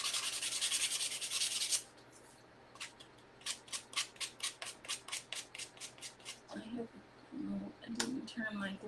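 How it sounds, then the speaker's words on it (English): Rhythmic scraping strokes of a sanding block over wood, about a dozen even back-and-forth passes, close up, with a burst of louder friction at the start. "I'm just sanding it where I cut it loose"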